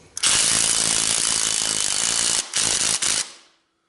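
Craftsman C3 battery-powered 1/2 inch impact wrench tightening a pulley, a loud continuous rapid hammering burst lasting about two seconds, followed by two short blips before it stops.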